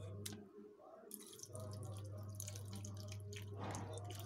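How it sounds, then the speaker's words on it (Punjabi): Cold water is poured onto mashed cream while making homemade butter. There is a faint, soft trickle and drip, then a steadier quiet pour with a low background hum. "ਵਿੱਚ ਠੰਡਾ ਪਾਣੀ ਪਾ ਲਓ"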